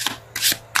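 Tarot cards are shuffled and pulled in three quick papery bursts of riffling and sliding, close and fairly loud, with no talking.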